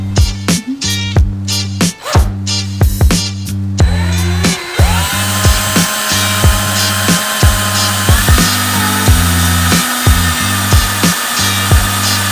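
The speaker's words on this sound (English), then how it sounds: "now I'm going to bolt it back on here and see what the final result is" A power tool drives bolts to refit a fender flare on a Toyota Camry: loud, close bursts of whirring and rattling impacts in short pulses, then a longer sustained buzzing run.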